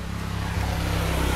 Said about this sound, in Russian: Здесь мотоцикл идет, потом автобус,